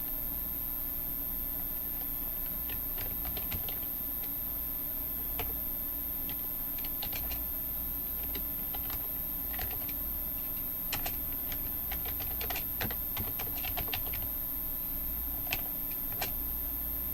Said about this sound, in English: We just type in here your question.